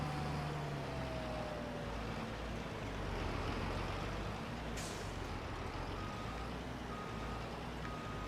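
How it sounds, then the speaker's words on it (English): A truck in Farming Simulator 22 backs a trailer into a pond on an Alaska dredging map. A steady engine drone runs throughout, with reversing beeps and a brief air-brake hiss partway through. "I can just back the trailer into the pond here and be good to go"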